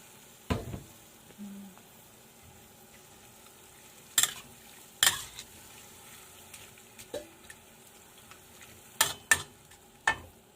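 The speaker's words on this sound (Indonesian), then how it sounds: "Kita aduk sampai rata ya guys." Nian gao batter being stirred in a bowl, with quiet background broken by sporadic sharp knocks and scrapes of a utensil against the container, several clustered taps near the end.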